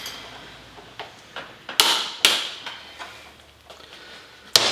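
A torque wrench tightens a bolt with a series of sharp clicks and ratcheting ticks, irregularly spaced, a few louder snaps standing out close by with no talking.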